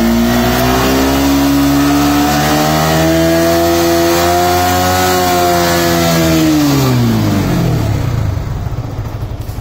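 A Yamaha R15 V3 motorcycle engine revs hard and loud, its pitch climbing steadily to a high sustained whine before dropping back off, heard up close with no one talking.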